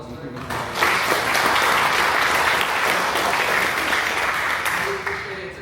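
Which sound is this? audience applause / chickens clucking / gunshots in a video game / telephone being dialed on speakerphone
audience applause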